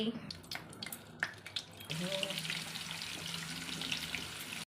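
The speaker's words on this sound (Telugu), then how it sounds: "ఆయిల్ బాగా హీట్ ఎక్కిన తర్వాత ఈ ఉసిరికాయలు అందులో వేసి వేపుకోవాలి" Indian gooseberries (amla) drop into hot oil; a few clattering knocks come first, then a steady, fairly quiet frying hiss sets in and carries on to the end.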